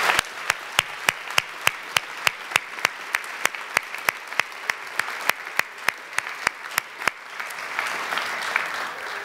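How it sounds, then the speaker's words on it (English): An audience at a college academic and leadership awards convocation applauds the recipients, with steady clapping and regular sharp claps standing out, lasting several seconds before thinning into softer crowd noise. "Let's give one more round of applause to all of the recipients this afternoon."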